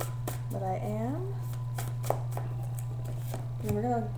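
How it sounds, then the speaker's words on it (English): Tarot cards being shuffled by hand, giving soft, brief riffling taps and flicks scattered through the clip beneath a steady low hum, with a voice speaking at moments over them. "I'm actually shuffling right now, you guys."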